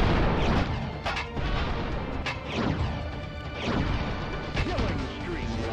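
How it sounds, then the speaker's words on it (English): Rocket launcher firing and exploding in a VR shooter: a series of loud crashes and booming blasts, roughly every second, over a noisy battle bed, with a voice talking in between. "Oh, rocket launcher!"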